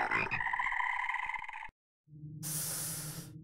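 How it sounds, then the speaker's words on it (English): Frogs croak in the video game Little Nightmares 2, a dense buzzing chorus that cuts off abruptly, followed after a short silence by a loud hissing, spray-like noise with no talking. "How dare you submit the frogs to the horrors of this game?"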